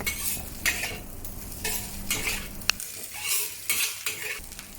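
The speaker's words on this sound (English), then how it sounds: "break up the lumps of the rice with the wok spatula. After breaking up all the large lumps of rice, mix it with the egg" A wok spatula scrapes and clanks through rice and egg being stir-fried in a hot wok, with repeated close metallic strokes over a soft sizzle and one sharp clink.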